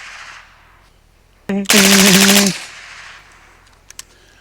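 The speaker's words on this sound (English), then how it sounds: "I did run about 10 rounds each through the Mark 18 with the FRT" A suppressed Mark 18 5.56 rifle fitted with an FRT trigger and a Carson 556 suppressor fires a loud, rapid burst of about a second at an outdoor range, followed by quieter distant pops.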